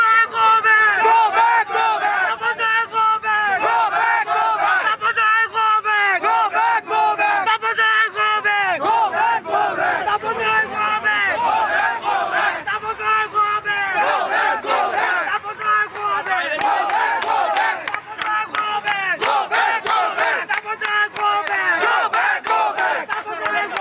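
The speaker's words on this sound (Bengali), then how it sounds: "দেখো তারা গো ব্যাক স্লোগান দিচ্ছে।" A political rally crowd chants "go back" slogans in loud, rhythmic unison, the repeated shouted phrases rising and falling in regular waves across the whole stretch, close and dense with overlapping voices.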